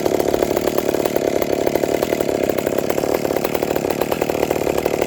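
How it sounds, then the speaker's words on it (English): A ported McCulloch Pro Mac 850 chainsaw roars loud and close at full throttle, cutting frozen spruce in -35°C cold. It holds one continuous buzzing drone with no pauses. "Let's make a few cuts of this thing."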